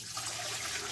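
A dipper of water is poured in a steady, continuous splashing stream for about a second, close and alone, while preparing dye for tie-dyeing shirts.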